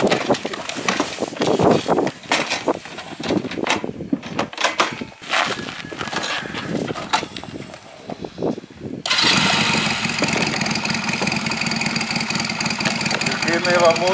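A motorcycle on a gravel ride starts up, with clunks and rough engine bursts, then settles into a steady loud idle. Wind and handling noise come first, and speech is not clearly apparent.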